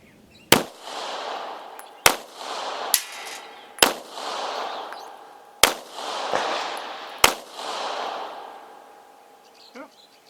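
A Krieghoff Luger pistol, just repaired, test-fires six sharp single shots at irregular intervals of one to two seconds, each crack loud and close with a short ringing tail before fading.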